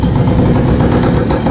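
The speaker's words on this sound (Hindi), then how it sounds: "देखिए आवाज़ भी बाइक की जो है इतनी सॉलिड है" An old motorcycle engine runs steadily up close, a loud, rough, throbbing idle with a deep rumble and no voices.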